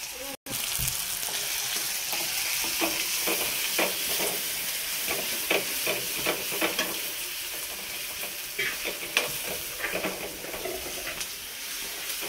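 Onions frying slowly on a low flame in a pan, a steady close sizzle with scattered spoon clicks and scrapes as they are stirred, no talking.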